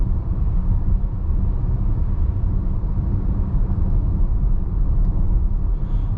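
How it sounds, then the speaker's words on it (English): Steady, loud low-frequency road rumble and wind noise inside a moving 2024 Volkswagen Atlas SE, constant throughout with no talking. "we'll see what the wind noise, tire noise, things like that are up at some higher speeds"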